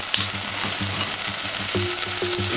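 Beef medallions for a hunter-style steak sizzle in hot oil in a pan, a steady close hiss with faint stirring ticks and no voices.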